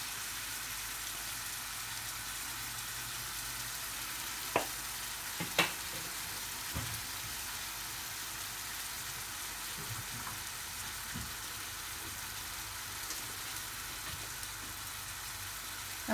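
Chicken with red chilli powder and lemon juice frying in a pan, a steady close hiss of sizzling with a few light clinks and scrapes of stirring.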